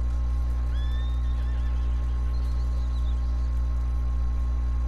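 A horse in the video game Red Dead Redemption 2 gives a single clear neigh, a rising whinny that trails off, heard fairly close over a steady low ambient hum with no talking.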